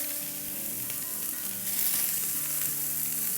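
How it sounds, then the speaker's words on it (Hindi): Onions and bell pepper fry in hot oil in a cast iron pan, giving a steady, close, full sizzle that holds without a break and swells slightly midway; no one speaks. "इसमें अब हम डालेंगे तेल और इस तेल में डालेंगे थोड़ी सी अनियंस और बेल पेपर"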